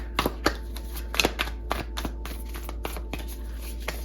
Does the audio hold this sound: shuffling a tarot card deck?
yes